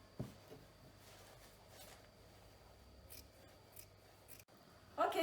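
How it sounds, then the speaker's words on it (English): Scissors snip through a fold of fleece fabric, with a few soft, close cuts in a quiet room and a louder rustle at the very end. "so we cut the fold open"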